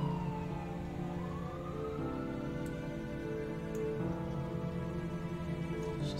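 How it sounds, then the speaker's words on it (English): Emergency vehicle sirens wail outside, a steady rising and falling tone heard from a distance over a constant low rumble of traffic, with no talking. "Oh my god, more sirens"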